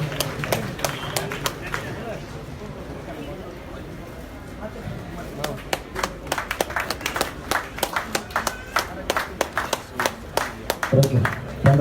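Applause from a gathered audience at a conference marking a news channel launch, sparse claps at first that grow into brisk, uneven clapping, with some speech underneath.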